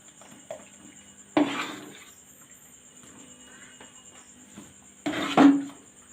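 A spoon knocks and scrapes against a pot while a palm pitha mixture is stirred, two sharp metallic clanks standing out over quieter stirring, close by and with no talking.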